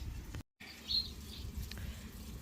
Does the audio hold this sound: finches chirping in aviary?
yes